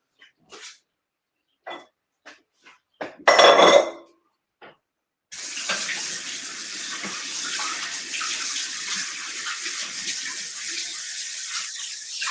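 A few soft knocks and brief kitchen handling noises come first, then a tap opens and water runs steadily and loudly into a bowl being warmed for challah dough.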